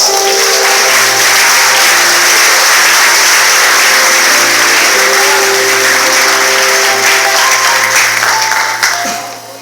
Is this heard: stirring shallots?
no